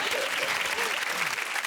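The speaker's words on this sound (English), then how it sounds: "Everyone who knows what a beard is clapped, I think" A studio audience at a comedy panel show breaks into brief, steady applause, a dense wash of clapping that fills the short moment without pause.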